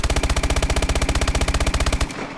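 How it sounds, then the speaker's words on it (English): MP11 submachine gun fired on full auto in Call of Duty: Advanced Warfare, a loud, close, evenly spaced burst of about two seconds at a fast cyclic rate, ending abruptly with a short fading tail. "So this is how fast the normal MP11 shoots. It's like 920 RPM."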